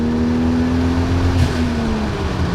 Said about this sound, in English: I hope you can hear that blow off